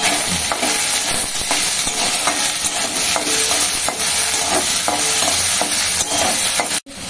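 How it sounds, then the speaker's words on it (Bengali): Soybean chunks and green chillies stirred and fried in hot oil in a home kitchen, a loud continuous sizzle with the scrape of a spatula moving through the pan close up. "আগে সোয়াবিনটাকে একটু তেলের উপরে দিয়ে দিই। কাঁচা লঙ্কা একটু নাড়াচাড়া করে নিই।"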